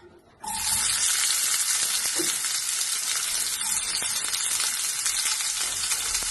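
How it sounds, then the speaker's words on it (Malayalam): Sliced onions drop into hot oil in a pan and set off a sudden loud, bright sizzle that holds steady and close for the rest of the clip. "ഒരു പാൻ അടുപ്പത്ത് വെച്ച് അതിൽ കുറച്ച് ഓയിൽ ഒഴിച്ച് കൊടുത്തിട്ടുണ്ട്. കുറച്ച് സവാള ഇട്ട് കൊടുക്കാം."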